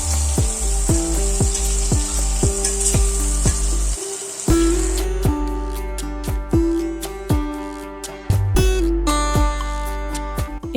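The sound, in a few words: potatoes frying in oil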